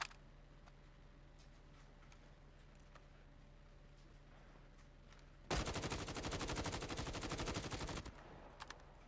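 Rapid automatic gunfire from the Call of Duty Mobile video game, played on a controller, bursts out loud and continuous for about two and a half seconds after a quiet stretch, ending in a couple of isolated shots.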